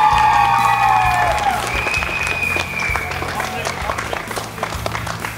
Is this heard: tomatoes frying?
no